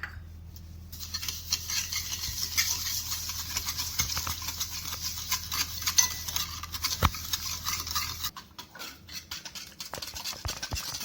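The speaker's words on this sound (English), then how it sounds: "I'm going to add 3/4 cup of curd and 3/4 cup of sugar, and now we have to beat it" Oil, curd and sugar beaten together in a bowl for an eggless chocolate cake batter, a steady fast scratchy whisking rhythm that runs close and continuous, briefly dropping away near the end.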